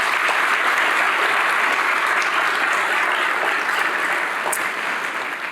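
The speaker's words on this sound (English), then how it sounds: "Can we please give them another round of applause?" Audience applause at a mayor's budget address fills the room, a loud, sustained wash of clapping that eases off slightly toward the end.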